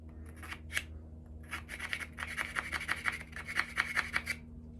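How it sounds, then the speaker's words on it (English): A long file rasps inside a freshly drilled hole in a handmade songbird whistle, clearing out the rough edges in a quick series of close, scratchy back-and-forth strokes over a steady low hum. "I take a long file, and I clean up that scar tissue on the inside from where the drill went through"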